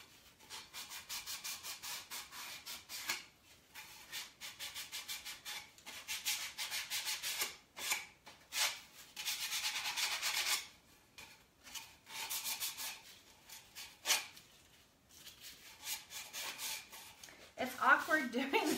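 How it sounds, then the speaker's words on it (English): Sandpaper scraping around the edges of real baseballs, steady gritty back-and-forth rasping in close bursts with brief pauses, ending with some handling clatter; a voice talks at moments. "Now also what I'm going to do is sand around the edges"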